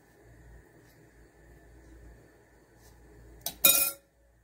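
Metal spoon clinking against a pot while stirring sheer khorma, a couple of sharp bright clinks after a quiet stretch of faint background hum.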